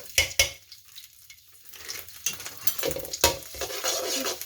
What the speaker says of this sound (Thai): ผัดพริกแกงของเราให้หอมก่อนนะคะ